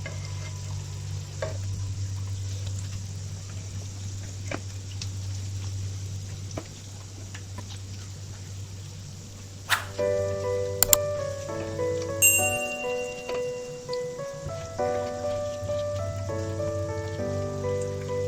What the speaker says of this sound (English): I've been frying this for about 20 minutes until it's nice and crispy